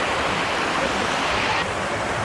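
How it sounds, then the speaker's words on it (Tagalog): Strong rushing water current at a waterfall resort pool, a continuous loud roaring wash of churning water filling the whole clip, steady and close. "Malino ang tubig, malakas ang agos."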